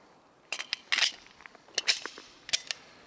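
Sharp, snappy cracks with ringing metallic clatter come from a Kilinc 2000 Mega 9mm pistol fired at a range, several separate reports spread over a few seconds with no talking.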